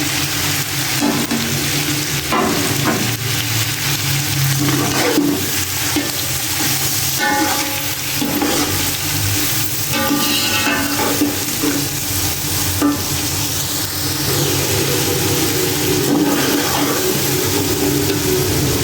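Finely chopped onions frying in a pan with chicken liver, a loud continuous sizzle with stirring scrapes and occasional clinks throughout, close and steady.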